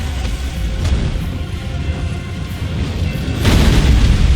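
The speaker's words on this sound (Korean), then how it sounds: "불 쏜다 불 쏜다 불 쏜다" A fire attack blasts in the dark fantasy video game Elden Ring, a dense, loud rumbling boom that swells sharply in the final second, with no speech over it.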